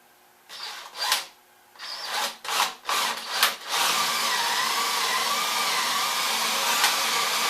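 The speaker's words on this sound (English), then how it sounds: "So we'll go ahead and drill them holes." Drilling 5/8-inch holes in wood for a dolly install, several short whirring bursts of the bit biting in, then a steady, loud continuous grinding drone as the drill bores through, with no talk.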